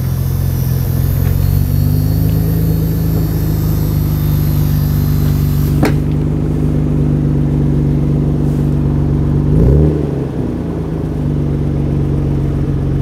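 A car engine in the video game Gran Turismo holds a loud steady drone with a brief rev and pitch drop near the end, no talk over it.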